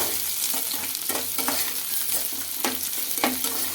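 Large-cut onions frying and stirred in a pan for chilli chicken: a continuous close sizzle with repeated scraping and clinking strokes of a spoon at an uneven rhythm, and no speech.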